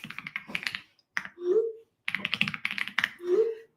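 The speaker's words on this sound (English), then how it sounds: "you get to hear my keyboard clack for a second" Computer keyboard typing in quick bursts of close, crisp clacks, with a heavier thock of a larger key after each flurry and a short silent gap between the two runs.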